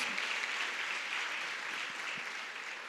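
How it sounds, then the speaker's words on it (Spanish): A crowd at a church convention claps steadily, a dense, even wash of applause that holds for a few seconds and fades slightly at the end. "Dale un aplauso al Señor."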